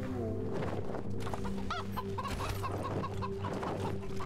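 Chickens in the video game Wasteland 3 cluck and bawk repeatedly in short, close bursts over a steady low hum of game ambience.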